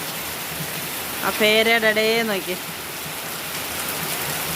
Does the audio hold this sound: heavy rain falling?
yes